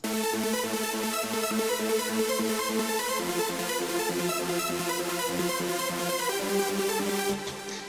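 A bright, pulsing trance synth riff moving from A down to F, repeating in steady rhythmic steps, dense and upfront, ending with a brief fade.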